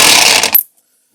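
Impact wrench tightening the primary clutch bolt on a Polaris RZR 900 during a Mother Clutcher clutch install, one loud continuous burst of hammering that cuts off abruptly.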